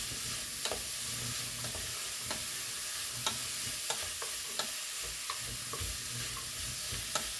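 Shepherd's purse stir-fries in a pan with a continuous soft sizzle, punctuated by light spatula scrapes and taps against the pan at irregular intervals.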